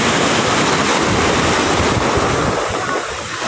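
Sea waves wash over a pebbly beach at Ilijan, Batangas, with a continuous loud rush of surf and wind buffeting the microphone.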